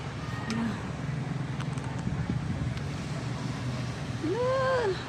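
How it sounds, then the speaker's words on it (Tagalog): Strong typhoon wind roars steadily near the sea, with surf and a rushing, buffeting rumble across the microphone. A voice calls out briefly near the end. "Grabe kusog sa hangin."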